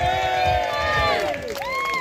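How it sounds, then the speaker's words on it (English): Crowd at a digital ID protest in Whitehall, London, cheering and shouting outdoors, a loud sustained mass of voices with rising whoops and calls throughout. "Come on, that's pathetic. Round of applause."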